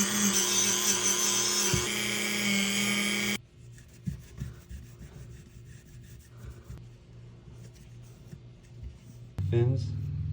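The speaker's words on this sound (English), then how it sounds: "So I got a little wire brush here for my Dremel." A Dremel rotary tool fitted with a small wire brush scrubs dirt from the radiator fins of a Honda CRF450R dirt bike, a loud steady grinding whir at first, then quieter intermittent scraping, with a short burst of talk near the end.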